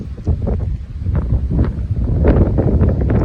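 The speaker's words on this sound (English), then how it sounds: "Quite a windy day, cold day." Steady wind buffets the microphone in low rumbling gusts, loud and continuous throughout with no voices.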